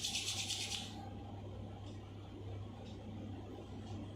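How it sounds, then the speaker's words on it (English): Palms rub together briskly to warm them during a yoga session, a close, breathy rasping for about a second, then a quiet room with a low steady hum. "Rub your palms, make them warm"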